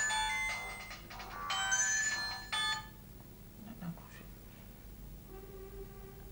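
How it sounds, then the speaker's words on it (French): A telephone ringtone chirps in repeated short bursts during a live television news broadcast, fairly clear against a quiet room hum, then stops with a faint tone after. "Nana Rouge, je suis en direct à la télé. Faut rappeler."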